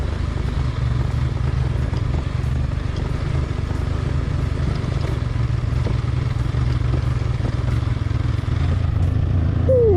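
A scooter climbs a rough, rocky mountain road, its small engine droning steadily and loudly throughout with rattling and clatter from the uneven surface.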